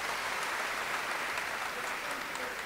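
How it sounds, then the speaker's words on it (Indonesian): At a university graduation ceremony, the assembled audience gives the cum laude graduates another round of applause, a steady, even wash of many clapping hands from the crowd, moderately distant. "Tepuk tangan sekali lagi."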